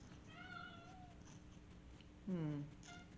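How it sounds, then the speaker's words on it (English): A house cat meows twice at a crafting table, a thin drawn-out call followed by a louder, sharper meow, fairly close in a quiet room. "There's my cat."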